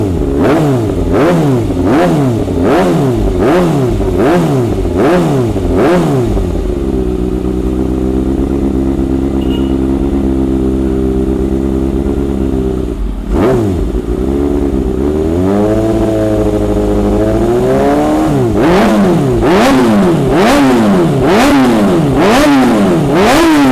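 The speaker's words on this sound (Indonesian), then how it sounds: "Kita bakal geber-geber lagi." A Kawasaki ZX636 motorcycle engine revs hard in repeated rising-and-falling blips, settles into a steady idle, then climbs again into a fast string of sharp throttle revs, loud and close with no talk.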